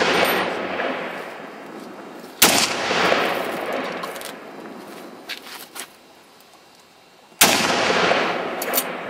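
Kel-Tec RFB forward-ejection bullpup rifle firing outdoors, two sharp, loud single gunshots about five seconds apart, each followed by a long rolling echo that fades slowly, with no speech.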